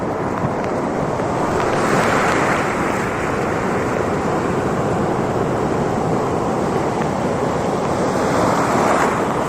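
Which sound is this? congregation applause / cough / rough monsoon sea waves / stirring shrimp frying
rough monsoon sea waves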